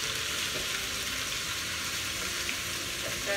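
Beef for fajita quesadillas fries in a hot pan, giving a steady, close sizzle with crackling spits throughout and no voices.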